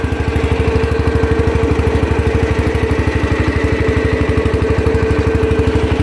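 A John Deere 140 garden tractor engine chugs close and loud in a fast, even pulsing rhythm, running steadily throughout with no voices over it.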